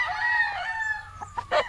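A young rooster at a stag-picking session lets out a single loud, close crow, followed by a few short clucks and rustles.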